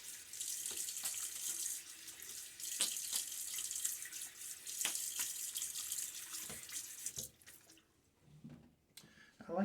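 A tap runs steadily into a sink while a razor is rinsed after a wet shave, a soft continuous splash with scattered drips and clinks, faint and close, thinning out near the end.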